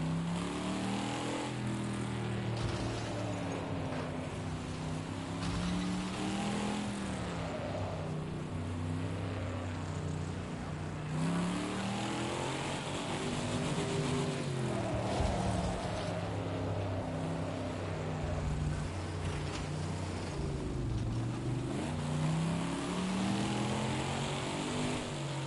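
A car engine runs steadily at a demolition derby, its low rumble rising and falling as the throttle revs, loud and continuous throughout with no talking.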